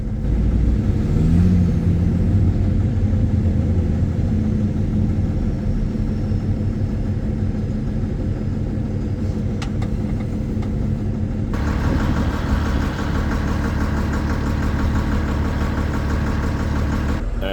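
Heavy forestry machinery, a forwarder working ahead of log trucks on a thawing ice road, gives a steady low diesel rumble and idle, loud throughout, with a brief shift in tone partway through and no voices.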